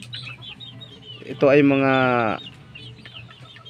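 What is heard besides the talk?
hens clucking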